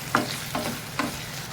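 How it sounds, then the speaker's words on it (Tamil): Okra sautéed with a little salt and stirred in a pan, three distinct spatula scrapes spaced evenly over a faint, steady sizzle, close and alone. "இதில் வெண்டைக்காயை நல்லா வதக்கி விட்டுக்கலாம்"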